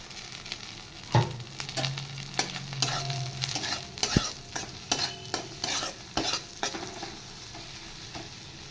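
Spatula stirs and scrapes food frying in a pan with salt and chopped green chili, giving a soft continuous sizzle broken by irregular clinks and scrapes; no talking.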